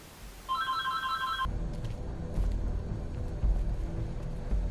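A phone rings with a bright two-tone electronic trill over the start of a video game session, then cuts off as low game rumble and ambient noise take over.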